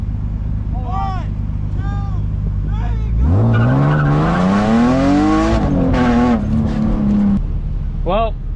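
A BMW E36 street drifting, its engine climbing steadily in pitch as the car accelerates, followed by a long sustained tire squeal, with voices talking before and after.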